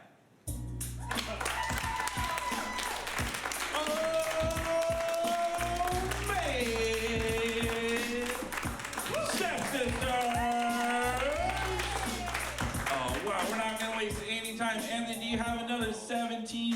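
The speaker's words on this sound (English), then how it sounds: "let's keep that big applause going, ladies and gentlemen." Sustained applause and cheering from a crowd, steady and loud throughout, with music and a voice over the clapping.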